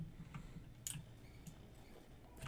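Sparse clicks from a new, loud computer keyboard, a few isolated sharp taps spread over a couple of seconds, fairly faint against a low background hum.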